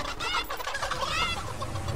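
Clucking from a chicken prop disguise in the video game Fortnite, a busy, scratchy squawking spread over a dense bed of game noise and a low engine-like rumble, fairly loud and with no talking.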